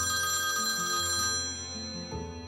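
A telephone rings in a dubbed TV drama scene, a loud steady electronic ring with bright layered tones that repeats without pause before being cut off near the end.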